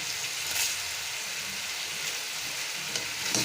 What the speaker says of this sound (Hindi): अब इसके अंदर शामिल करेंगे तेज़ पत्ता और साबुत गरम मसाला